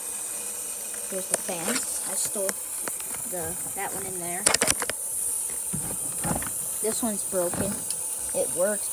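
A pipe in a small utility room gives off a steady, high-pitched hiss that runs through the whole stretch, sitting constantly beneath someone talking nearby.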